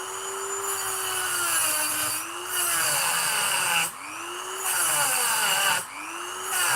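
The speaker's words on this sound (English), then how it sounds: "the rotary cutter will cut closer than you think it will" A rotary cutter grinding through a roller skate mounting bolt, a loud, high whining buzz whose pitch sags and recovers under load, cut by several brief pauses.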